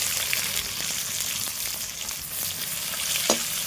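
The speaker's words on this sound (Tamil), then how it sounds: "எண்ணெய் காஞ்சதுக்கப்புறம் பட்டை லவங்கம் சோம்பு எல்லாத்தையும் போட்டு தாளிச்சுக்குங்க கொஞ்சமாக வெங்காயம் போட்டுக்கோங்க" Onions frying in hot oil with cinnamon, cloves and fennel, a dense, even sizzle close up, with a few scattered pops and a brief clink near the end.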